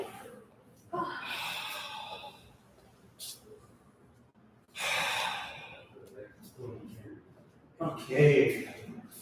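Heavy breathing after taekwondo practice: a few loud, breathy exhales and gasps in separate bursts, close to the microphone, with quieter gaps between them.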